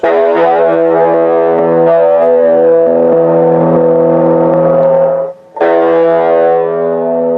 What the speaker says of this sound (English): and you're into reverb, which I like. I might go ahead and do a little chorus.